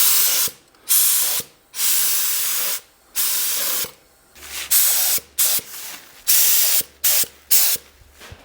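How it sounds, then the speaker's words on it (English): Several short bursts of spray paint hiss as a tractor's lug nuts are sprayed, each a second or so long, separated by brief pauses; close and fairly loud, with no talking. "I'm going to go ahead and spray the lug nuts real quick"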